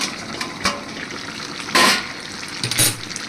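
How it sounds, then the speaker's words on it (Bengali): Malabar spinach stalks with garlic boiling in an uncovered pot, a low bubbling simmer close by, broken by a few clanks of lid and utensil against the metal. "দেখেছো কেমন ফুটছে।"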